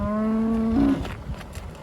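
A cow gives one long, loud, close moo on a cold farm day, followed by quieter rustling and faint background noise.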